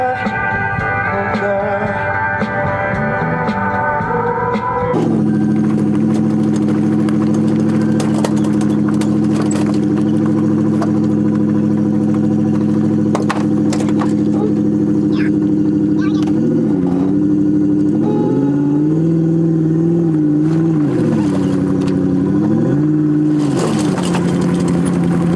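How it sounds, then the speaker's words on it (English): Outboard motor on a fishing boat in Ontario starts after a brief burst of other noise, then runs steadily with a loud, near drone whose pitch rises and falls as the throttle changes, with people talking over it. "That's how you start a motor, boys."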